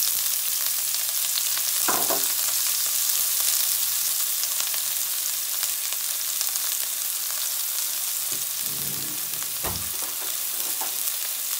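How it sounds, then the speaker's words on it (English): Vegetables and seasoning fry in extra virgin olive oil in a hot pan for a gluten-free vegetable curry, giving a steady, close sizzle throughout with a few brief clunks of stirring. "You're going to be putting some extra virgin olive oil to the hot pan."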